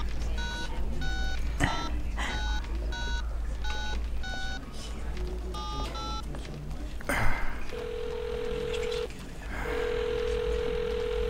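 A telephone call is dialed with a string of quick keypad tone beeps, then the line rings in two long steady tones, heard over a faint background hum.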